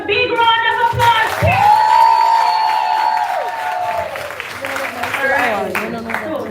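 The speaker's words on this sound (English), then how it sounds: "Give the ready ones another big round of applause." A crowd claps and cheers steadily through a graduation ceremony, loud and sustained, with voices and some tonal sound rising over the applause.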